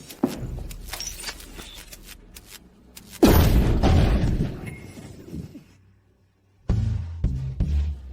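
An exploding machine gives a sharp, loud blast that rolls off into a dark rumble, bracketed by crackling, clattering impacts before and a second burst of debris-like bangs after a brief silence.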